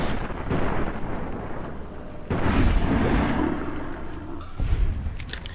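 Heavy gunshots aimed at a tough ghoul-like zombie in Fallout: New Vegas land as deep, booming blasts: one near the start, a big burst in the middle and another near the end, with a rumbling tail between them.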